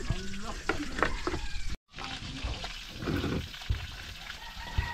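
Food frying in a pan, with crackling sizzle and stirring scrapes close by, briefly cut off and then resuming as a continuous hiss with intermittent pops.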